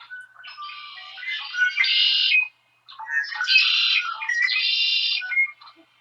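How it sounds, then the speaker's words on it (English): Two bright, buzzy trilling songs from a red-winged blackbird, each about two and a half seconds long with a short gap between, clear and fairly close against silence. "you no doubt have heard the red-winged blackbird song"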